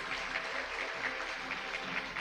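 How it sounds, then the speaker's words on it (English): A faint, steady round of applause rises from a competition finals audience for a finalist, fairly distant and unbroken over its short length. "Please give him a big round of applause."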